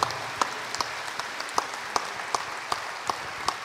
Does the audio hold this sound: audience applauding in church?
yes